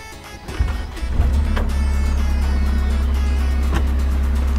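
A Cat next generation mini excavator's engine starts with a brief crank and catches, then settles into a steady, loud, even idle hum that continues without talk.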